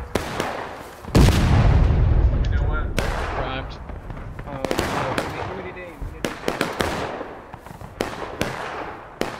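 Artillery cannons fire in the Civil War-era multiplayer game War of Rights: a loud, booming blast with a long rumbling tail, followed by sharper distant cracks and shots scattered across the battlefield, with voices calling out during the barrage.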